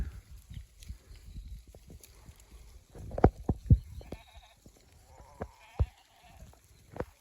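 Sheep on a rural farm let out several bleats, some near and some farther off, among scattered shuffling and thumps in an otherwise quiet outdoor setting.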